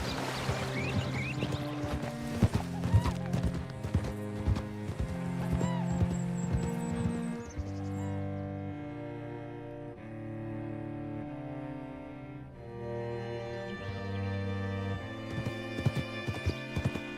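Horse hooves in Red Dead Redemption 2, clip-clopping in a steady rhythm with an occasional whinny, heard under a continuous music score.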